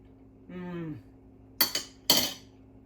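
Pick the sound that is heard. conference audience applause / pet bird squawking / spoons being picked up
spoons being picked up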